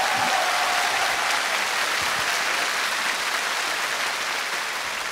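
A concert audience at a Korean 7080 special show applauds steadily for a talk segment with three singers, a broad even roar of many hands that holds strong and fades only slightly toward the end.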